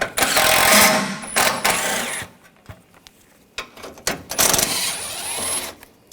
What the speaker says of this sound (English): Take these bolts out, use a 10mm socket.